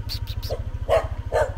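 A dog gives a few short barks close by, with a steady low mechanical hum running underneath.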